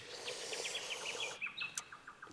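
A golden whistler calls near a nest, giving a quick series of thin chirping notes that ends in a brighter upward whistle, fairly faint over soft background hiss.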